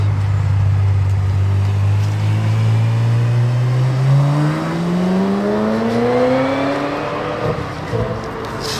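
A Ferrari 355 sports car drives along a Paris street, its engine note climbing steadily as it accelerates through the gears, loud and close before gradually easing off.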